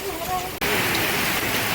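Heavy rain pours steadily over Rajkot village in Banaskantha, a dense, loud hiss that fills the whole moment, with a brief voice heard faintly at the start.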